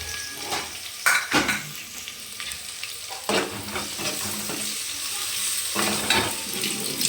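Browned onions fry with ginger garlic paste in a hot pan during lunch cooking. A steady sizzle runs throughout, broken by several loud stirring scrapes and clanks from a utensil against the pot.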